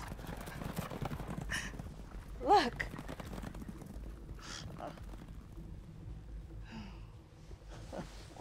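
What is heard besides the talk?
horses' hooves clip-clopping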